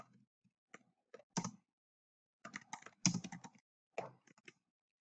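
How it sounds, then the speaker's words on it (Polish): Typing on a computer keyboard comes in short, close bursts of quick clicks separated by pauses in an otherwise quiet room. "Wpisujemy sobie tutaj jakieś pytanie."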